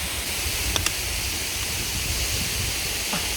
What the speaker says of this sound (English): lunch at a waterfall